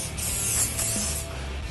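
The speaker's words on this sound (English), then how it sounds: "smooth bursts of spray, letting off on the spray nozzle as you approach the edge of the top, like this." A spray nozzle mists protectant onto the canvas or vinyl fabric top of a convertible. Short hissing bursts sit close to the microphone, with a brief mechanical click of the trigger partway through.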